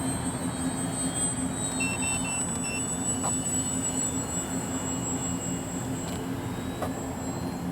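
An FMS Ranger 1220mm RC airplane flies with a steady, thin high-pitched motor whine throughout, with a few short electronic beeps partway through.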